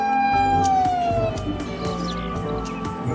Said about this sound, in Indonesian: Ada satu buah mobil berwarna merah. Hehe, namanya mobil pemadam kebakaran.